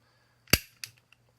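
Two sharp, close mechanical clicks about a third of a second apart from a Kel-Tec P32 .32 ACP pistol's trigger reset, the first louder and snappier, followed by a faint tick.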